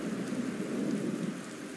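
Heavy rain pours steadily in Skyrim with a deep rolling thunder rumble woven through it, a loud, dense and continuous storm roar without any voices.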